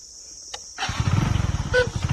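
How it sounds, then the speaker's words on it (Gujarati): A motorcycle engine cranks and catches, then settles into a steady, throbbing idle close by, with no talking. "બાઇક ચાલુ કરી દીધું"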